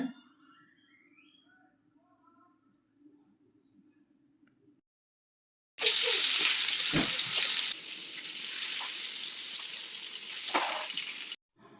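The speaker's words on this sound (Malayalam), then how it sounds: "ഇനി അതിലേക്ക് ചെമ്മീൻ ഓരോന്നായിട്ട് ചേർത്ത് കൊടുക്കുകയാണ്" Prawns dropped into hot coconut oil in a pan sizzle loudly and steadily, starting abruptly after quiet talk and continuing with crackling bursts before stopping suddenly.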